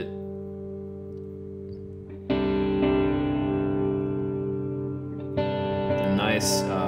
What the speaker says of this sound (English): A nice digital delay. Almost sounds like an analog delay.